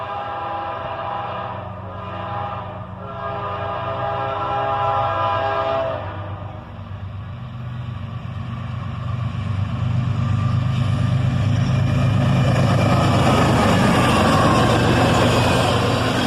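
An intermodal freight train led by ES40DC and ES44DC locomotives rumbles past, the deep engine drone and rolling wheel noise swelling louder and closer over the length of the pass.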